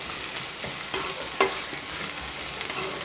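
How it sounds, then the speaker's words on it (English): Ginger garlic paste sizzles and crackles in hot oil while being stirred, a steady close frying hiss with small pops and scraping, no voices. "Saute well till the raw smell of the ginger garlic paste leaves."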